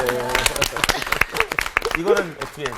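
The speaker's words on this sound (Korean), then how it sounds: "우리 근데 박수 한번 이렇게." At a televised church Bible lecture on Acts, a studio audience breaks into scattered clapping while people keep talking and laughing over it, with the voices louder than the claps.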